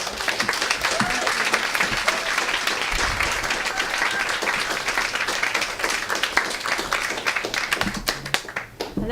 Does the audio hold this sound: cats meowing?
no